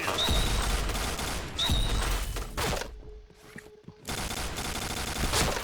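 Light machine gun fire in the Point Blank video game: loud, dense bursts of rapid automatic shots, pausing briefly for about a second before another sustained burst resumes.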